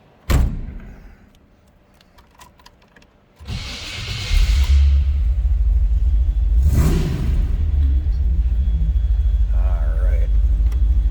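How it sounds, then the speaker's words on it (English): A thunk, then a starter cranks briefly before a 1937 Chevrolet two-door touring sedan street rod engine catches and settles into a steady, deep rumbling idle with a swell of revving. "Let's go ahead and fire this up. Let you hear it run."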